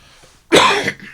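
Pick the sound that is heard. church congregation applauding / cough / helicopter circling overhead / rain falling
cough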